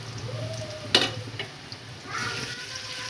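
Ginger paste goes into a hot pan for a Hilsa fish pulao, bringing a sharp burst of sizzle and clatter followed by steady frying hiss and light stirring, fairly close.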